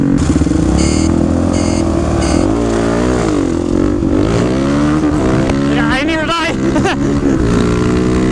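A supermoto motorcycle on knobby tires revs hard and close, its engine note rising and falling in repeated throttle blips and sweeps that keep it loud and continuous throughout.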